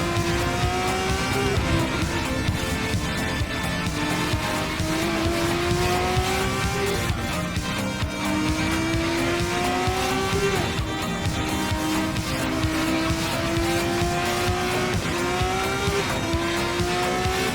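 Race car in a racing video game, engine rising and falling through repeated upshifts while the rear tyres lose grip and squeal, loud and continuous throughout with no talking.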